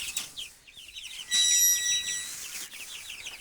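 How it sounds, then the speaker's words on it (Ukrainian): Young chicks peep and cheep in busy, high-pitched chirping bursts while one is grabbed to be weighed on a scale, with a louder flurry of calls in the middle and no talking. "Лапаємо курча яке-небудь."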